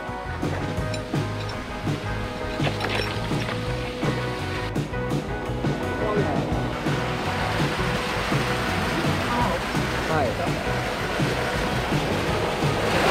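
A rushing mountain stream spills over a small waterfall along Au Pui Wan Stream in Hong Kong, making a steady, loud wash of water that fills the whole stretch without pause.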